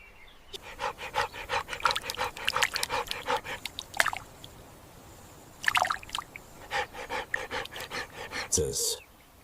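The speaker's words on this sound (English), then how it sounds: "The African wild dog, or painted wolf, is one of the continent's most efficient predators." African wild dog, also called painted wolf, panting in quick rhythmic breaths, fairly close, continuing in runs with a short pause partway through.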